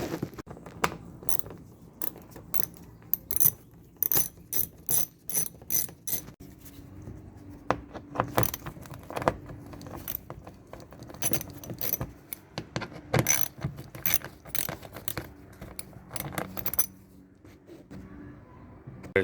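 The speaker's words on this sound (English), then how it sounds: "I'm gonna remove the under tray right there, and that's gonna be held on by a bunch of these 8mm bolts." Tools clicking, rattling and ratcheting while 8mm bolts holding the under tray are removed from a 2008 BMW 328i, sharp irregular metallic clicks in clusters over about twenty seconds, with quiet gaps and no talking.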